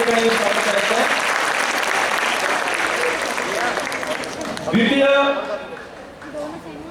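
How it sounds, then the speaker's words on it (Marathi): A school prize-giving audience bursts into loud, sustained clapping to greet a first-prize winner; the applause fades near the end as a speaker's voice over a PA takes over. "जोरदार टाळ्या वाजवून या ठिकाणी स्वागत करायचं आहे"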